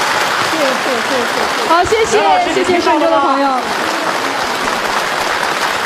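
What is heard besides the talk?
audience applause at Yue opera gala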